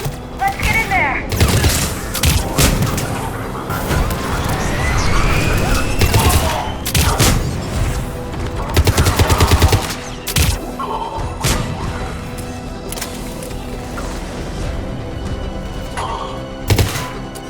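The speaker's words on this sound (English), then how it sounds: "They're under fire!" Intense gunfire at a checkpoint in the video game Mass Effect 3, with repeated bursts of rapid shots, heavy impacts and booms across a long battle, dialogue and radio chatter mixed in between volleys.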